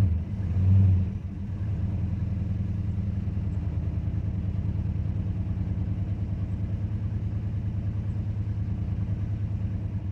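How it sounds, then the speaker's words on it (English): A 1969 Dodge Dart GT V8 engine, revived after years of sitting, running rich at a steady fast idle with an even, rapid pulsing rumble and a brief louder surge at the start. "It's running. That's a good sign. And it's fast idling, okay."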